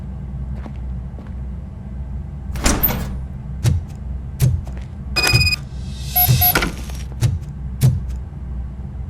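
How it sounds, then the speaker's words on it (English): A door opening in the video game Robocop Rogue City: a whoosh and a buzzy mechanical whir, followed by a series of evenly spaced metallic thunks and clanks at moderate volume over a low hum. "Now let me get that door open for you."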